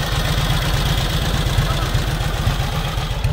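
A 1969 BSA motorcycle with a Shelva head idles steadily at an antique motorcycle club event, its engine throbbing in a fast, even low-pitched pulse up close and loud throughout, with no talk over it.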